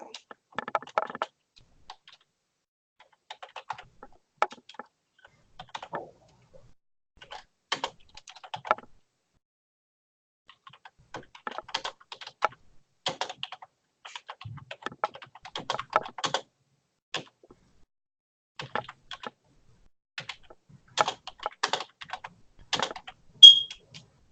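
Computer keyboard typing as notes are taken during an English class, with scattered bursts of key taps and short pauses, fairly quiet, and a little talk in the background.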